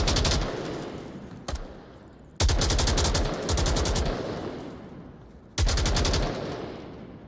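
Long bursts of rapid, loud SAW light machine gun suppressing fire in the VR shooter Onward, three sustained volleys, each cutting off abruptly, with a reverberant tail and brief pauses between them.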